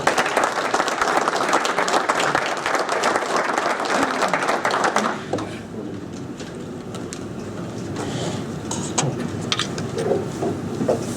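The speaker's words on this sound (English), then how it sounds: "if you give him a warm applause, I appreciate it" Warm applause for a guest at the Ohio Wrestling Officials Hall of Fame ceremony, dense clapping for about five seconds before it thins and fades into scattered claps and room noise.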